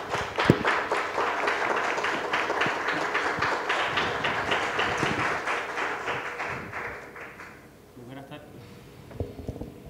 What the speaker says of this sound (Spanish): Así que recibimos con un aplauso a Carlos.